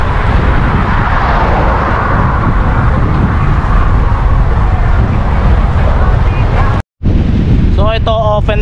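Strong headwind buffets the microphone during a group road bike ride across a bridge in Taiwan, a loud continuous roar that drops out for an instant, followed by a brief voice at the end.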